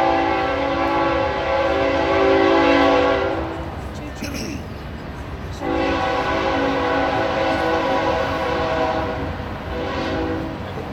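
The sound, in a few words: train passing with horn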